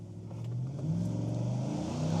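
A 2025 Chevrolet Silverado with a 6.2-liter engine launches from a standstill on a wet road, its engine note rising steadily as it accelerates, heard fairly faintly from inside the cab.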